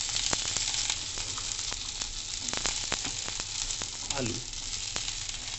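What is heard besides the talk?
okra (bhindi) sizzling in a pan with onions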